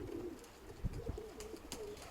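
A pigeon coos softly at home, a few low rolling coos close by with faint scuffs and clicks around them, no voices.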